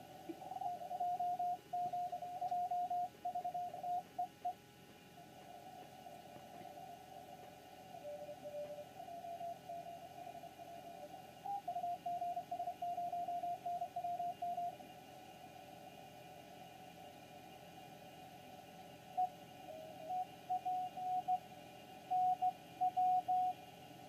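Homebrew HF software-defined radio receiver tuned across the 40 metre amateur band on a noisy night, giving a steady hiss with faint intermittent carrier tones and chirps drifting in and out, no speech.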